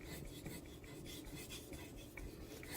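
Steady, close grinding scrape of a Strider Buck knife blade drawn freehand across a whetstone, continuous rasping strokes with no talk.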